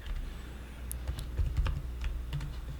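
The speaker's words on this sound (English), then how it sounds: "we're gonna go just below the body, and we're gonna type in a script" Keystrokes on a computer keyboard while entering a line of code, a short burst of soft clicks over a low, steady room hum.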